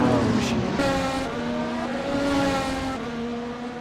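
Formula 1 race car in the Assetto Corsa sim at a Helsinki Grand Prix, a McLaren with Honda power: a steady, loud engine drone with shifting pitch and gear changes that runs the whole time without a break.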